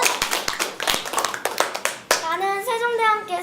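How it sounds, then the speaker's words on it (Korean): Sharp, close hand claps in a quick irregular burst, followed by a few sustained tonal notes near the end. "박수!"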